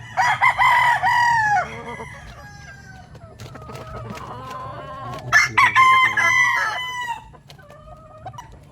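A young Boston Roundhead broodstag rooster, seven to eight months old, crows loudly nearby, one long crow at the start and another around the middle, with softer clucks and farmyard sounds between.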